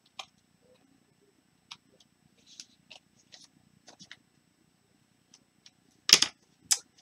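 Scissors cut card paper pieces for a fold card, giving a series of sharp, separate snips spaced irregularly, with two louder close cuts near the end and quiet in between.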